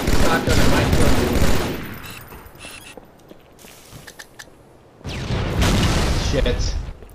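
Shotgun gunfire in a video game practice match: dense bursts of loud blasts at the start and again near the end, with quieter scattered shots and footsteps between.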